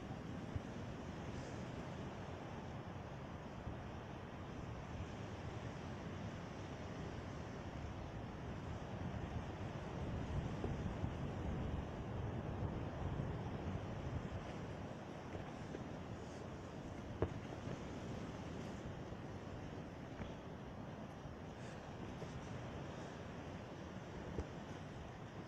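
Waves crash onto the shore at Hamlin Beach State Park, where a big sandbar lies close to the shore. The surf makes a steady, broad rushing wash mixed with wind noise, continuous throughout, with no talking.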